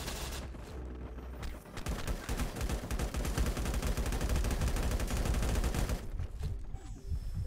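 Sustained automatic gunfire in the survival shooter game LifeAfter, a dense, loud rapid volley lasting several seconds between quieter ambient stretches, with no talk.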